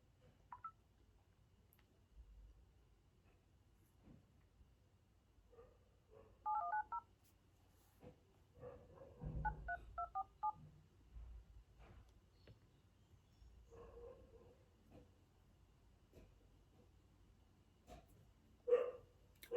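Several short telephone dialing tones from a speakerphone call, separated by quiet gaps, with a dog barking and whimpering faintly in the background.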